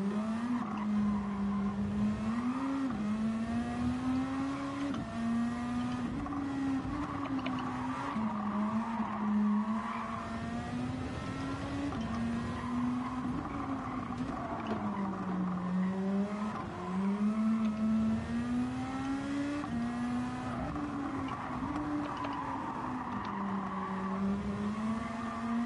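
A Nissan GT-R races in Gran Turismo 7, its engine droning steadily with rising and falling pitch as it shifts through gears, with intermittent tire squeal through corners and no talking.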